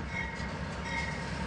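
Steady low rumble of a passenger train with early-1900s coaches rolling into Lamy station, with faint metallic squeal and hum from the cars, continuous and fairly close.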